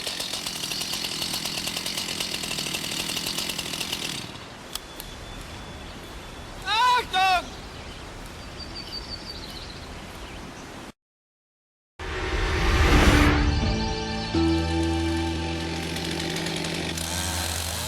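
Chainsaw making a vertical orientation cut into a standing tree in the direction of fall. The engine buzzes steadily, drops out for about a second of silence, then revs back up loudly.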